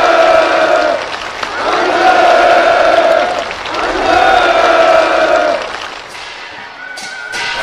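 Enthusiastic applause from participants at a countryside housewarming ceremony for new farm homes, swelling in loud crowd waves with a brief lull between, then tapering to scattered claps near the end.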